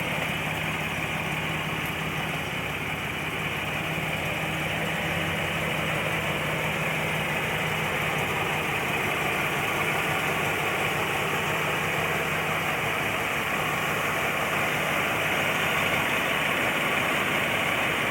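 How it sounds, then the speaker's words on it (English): A 1980 Buick Regal Turbo Sport Coupe engine idles steadily and loudly for the whole stretch, a constant close rumble with a dense, unbroken drone and no voices. "I'm just trying to get motivated watching this engine run, and boy, it screams"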